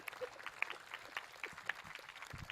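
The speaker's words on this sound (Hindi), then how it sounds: "अब मेरे कहने पे ताली बजा रहे हैं ये" An outdoor group at a World Yoga Day power yoga session in Model Town claps on request, with scattered, uneven hand claps mingling with a voice and crowd murmur.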